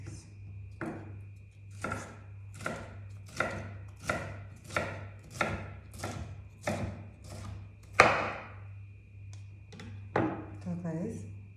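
Knife chopping sliced bell pepper into squares on a board, a steady run of about a dozen crisp, evenly spaced close chops with a few heavier knocks near the end, under a low background hum.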